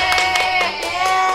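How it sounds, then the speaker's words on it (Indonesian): A few quick hand claps, loud and close, in a rapid uneven burst, with children's voices and other home sounds around them. "Tepuk tangan."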